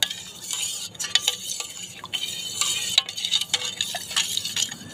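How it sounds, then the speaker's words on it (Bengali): A spoon stirs sugar into a watermelon ice cream mixture, with quick repeated scraping and light metallic clinks against the bowl, close and steady throughout. "আমি চিনিটা খুব ভালো করে মিক্স করে নেব"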